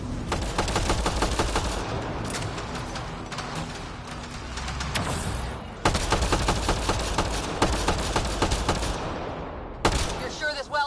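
Dense rapid gunfire from a turret in the video game Mass Effect: Andromeda, a continuous rattling barrage with a brief break near the middle, loud and up close, with other battle noise mixed in.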